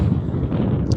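Strong wind of more than 70 km/h buffets the microphone during wild camping on Arranmore Island, a loud continuous low rumble with gusting swells and no speech.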